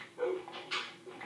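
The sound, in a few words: dog in video game Minecraft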